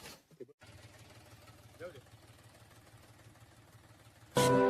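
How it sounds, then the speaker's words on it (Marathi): A tractor engine runs as a low, steady drone at moderate distance, with a brief rise partway through and an abrupt loud burst of noise at the very end. "तर गाईज आता मी ट्रॅक्टर चालवतोय."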